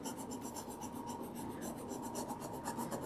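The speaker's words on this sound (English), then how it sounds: "And you could just drop it right back down and keep burnishing." Steady, continuous rubbing rasp of a burnishing tool worked back and forth over a nightstand surface to stick it down during a makeover, close and even in level with no talk.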